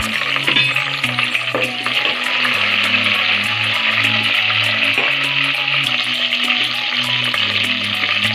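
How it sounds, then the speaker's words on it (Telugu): Onions and green chillies frying in oil for biryani: a loud, continuous close sizzle with bubbling and occasional stirring, steady throughout with no talking. "ఉల్లిపాయలు వేగిపోయాయి. పచ్చిమిరపకాయలు,"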